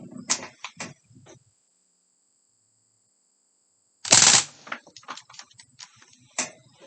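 A Crosman Bushman MPW BB gun fires on full auto, with short bursts of rapid sharp clicks. A brief rattling burst comes first, then a pause of near silence, then a louder, longer burst followed by a few scattered clicks.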